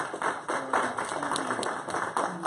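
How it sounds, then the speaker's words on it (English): Audience at a live teaching session claps their hands together, a dense, steady patter of many claps filling the room for a couple of seconds. "I think that's worthy of a hand clap."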